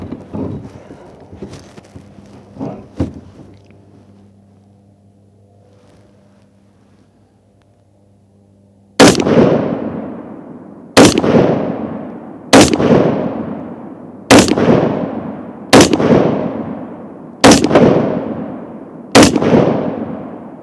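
Rifle rounds in 5.56 and .308 slam into a steel armor plate, seven loud sharp impacts arriving at a steady pace of one every second or two, each with a ringing decay, following a quiet stretch with faint low rumble.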